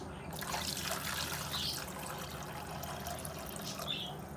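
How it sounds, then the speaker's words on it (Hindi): Two glasses of water poured into a cooking pot of spiced street-style kata kat, a continuous close splashing trickle that runs steadily for the whole stretch with no voices. "अच्छा, इसमें हम 2 गिलास पानी डाल देंगे।"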